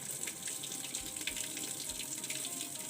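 Water runs steadily from a tap into a washing machine drain setup built from PVC pipe with a shut-off valve, a continuous close hiss with no talking.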